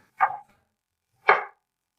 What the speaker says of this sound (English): we're going to cut a lot of ginger, all like this, in slices